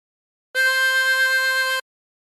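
A single sustained harmonica note blown into hole 4, steady and close for about a second and a quarter, then cut off cleanly.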